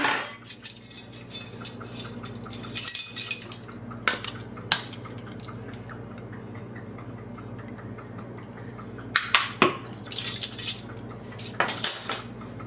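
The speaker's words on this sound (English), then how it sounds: "Grab my measuring spoon." A metal measuring spoon is picked up and handled in a home kitchen during baking, giving light clinks and rattles of cutlery with some louder clatters.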